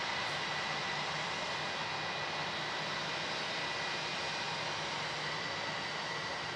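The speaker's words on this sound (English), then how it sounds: "Just in time for the KALITTA 747 to be drowned out by a Jetstar." Jetstar jet airliner at Melbourne Airport produces a steady, broad engine roar at moderate distance, sustained without breaks and with no voices over it.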